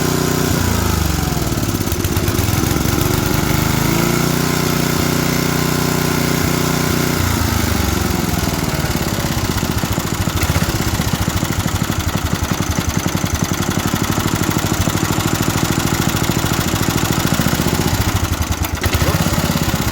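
A vintage MTD ride-on mower engine runs with the choke on, a loud, close, continuous drone whose pitch shifts early on and then settles into a steady rough idle throughout.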